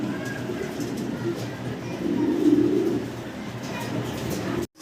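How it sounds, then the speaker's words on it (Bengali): Racer pigeons coo in a low, throaty burble that swells in the middle, with soft chirps over a steady background hum and faint voices murmuring nearby. "আমরা দেখতেছি ভাইয়ের কাছে রেসার কবুতর"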